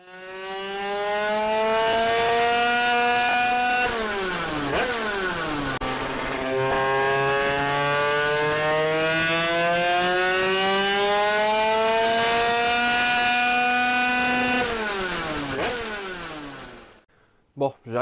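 A 100cc two-stroke engine revs repeatedly. Each sweep climbs steadily in pitch, then drops sharply. The engine is loud and close and sustained for about seventeen seconds before cutting off.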